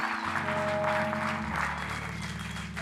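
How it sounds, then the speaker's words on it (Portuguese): An audience claps together during a church teaching session, a dense, continuous patter of applause over a low steady hum, fairly loud and even for the whole stretch. "Uma salva de palmas."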